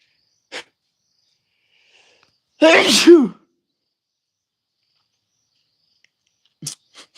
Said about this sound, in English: you just caught me in the middle of a sneeze